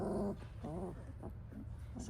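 Three-week-old doodle puppies growl and yip softly while playing, faint little bursts with short pauses between them.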